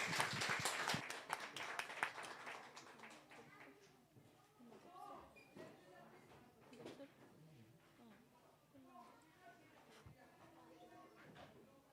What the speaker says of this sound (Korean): 감사와 영광의 박수 올려드리고